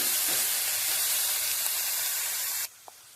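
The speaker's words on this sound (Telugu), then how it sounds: "మంచిగా ఫ్రై అయితే టేస్ట్ కూడా చాలా బాగుంటుంది బీరకాయ" Ridge gourd frying in a pan with coriander leaves, a loud steady broadband sizzle and hiss close up that cuts off abruptly near the end, with no talking.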